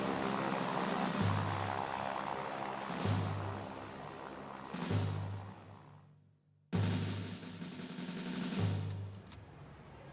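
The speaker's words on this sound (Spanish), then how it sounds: "Un grupo de aviones llega desde el Palomar y arroja volantes sobre la ciudad." Propeller aircraft drone steadily overhead, a group of planes flying low over a city, their engine roar swelling and fading in repeated waves, loud and continuous.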